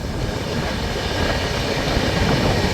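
An express passenger train rumbles past at close range near Hazrat Nizamuddin in Delhi, a loud, continuous roar of wheels and coaches with no clear breaks for almost three seconds.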